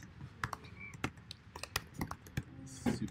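Fingers type quickly on a computer keyboard, a string of crisp, close clicks and clacks in an uneven rhythm, with a faint voice briefly in the background.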